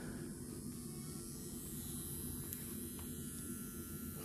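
An electric nail drill from Makartt runs forward at a low 3000 RPM, giving a faint, steady motor hum with light buzzing that holds evenly throughout.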